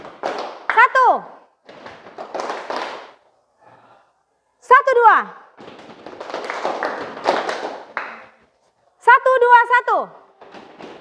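A classroom of pupils doing a clapping and foot-stomping chant, with bursts of thuds and claps alternating with a teacher's counting voice and pauses in between.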